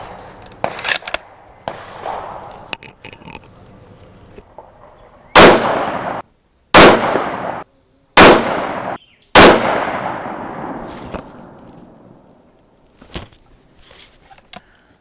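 Four loud, sharp .308 rifle shots at an outdoor shooting range, fired several seconds apart with brief echoing tails, followed by fainter distant reports and quiet background noise.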